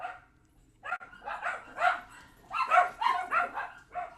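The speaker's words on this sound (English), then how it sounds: "my dogs are going bananas. They love to bark at..." Several pet dogs bark excitedly indoors in repeated bursts, the barks loud and close, with short pauses between volleys and no talk over them.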